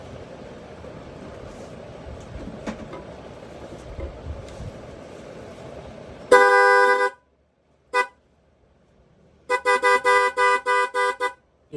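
A car horn blares in one long blast, then after a pause sounds again in a rapid series of short honks, loud and close over faint background noise.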